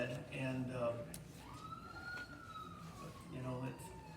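Emergency siren passing outside a church, its wailing tone rising and falling at a distance beneath someone speaking.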